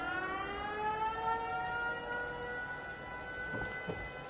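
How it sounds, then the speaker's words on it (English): Fallout 4 settlement alarm sirens wail from the corners of a fort with rising and falling tones, sustained and layered, with a couple of faint thuds near the end. "those sirens go off in all 4 corners of the fort, and it'll alert the settlers"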